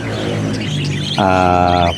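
A cockatiel gives a sustained, harmonic chirp call that starts partway through and holds steady for under a second, loud and close.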